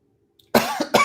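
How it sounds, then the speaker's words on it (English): A man coughs twice in quick succession, close and fairly loud, after a brief quiet moment. "He coughs and"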